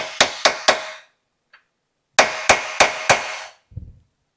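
Hammer tapping a key into the crankshaft of a Gen 2 LT1 engine: three sharp metallic strikes, a pause with a faint tick, then four more evenly spaced blows, close and loud, ending in a brief softer scrape.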